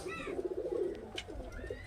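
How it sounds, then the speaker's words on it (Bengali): Murshidabadi Giribaz pigeons, a female and a male, give a short run of soft, throaty cooing close by, with no talk over it. "এটা কিন্তু মাদা পায়রা আর এই যে আমাদের এই পায়রাটা হচ্ছে নর পায়রা"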